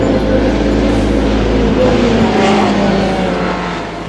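Race cars on the Mulsanne straight at Le Mans, engines roaring loudly with a sustained drone and shifting pitch as they pass, fading slightly at the end.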